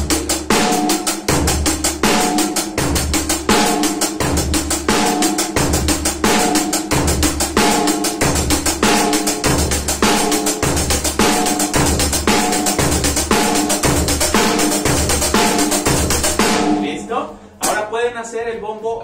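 A drum kit plays a beginner disco rhythm with a steady kick, snare backbeat and busy hi-hat, looping evenly for about seventeen seconds before the beat stops with a final hit.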